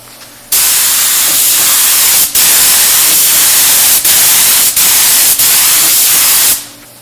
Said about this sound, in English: We're going to spray a light coat of tinted primer.